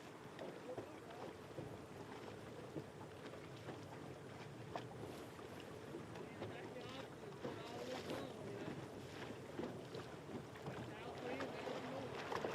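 A small fishing boat cruising across Pickwick Lake during a bass tournament, its steady engine and hull noise running continuously with wind buffeting the microphone throughout.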